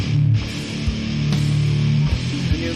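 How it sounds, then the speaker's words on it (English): European style doom death metal guitar riff played heavy and distorted, with sustained low chugging notes and a few sharp accents, loud and steady throughout with no voices. "I have this European style doom death metal."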